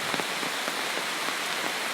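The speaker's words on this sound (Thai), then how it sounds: "เป็นเสียงของฝนตก" Rain falls steadily in a backyard garden with large trees in Wang Nuea, Lampang, a dense even patter of drops on surfaces with faint individual taps, close and continuous.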